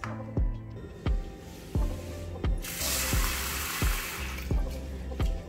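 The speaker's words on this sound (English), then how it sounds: "we are going to wash the rice and dal 3 to 4 times until the water runs clear" Rice and moong dal are swished and rinsed in water in a kitchen, with sharp repeated clicks and knocks roughly every 0.7 seconds and a burst of splashing water in the middle, no voices.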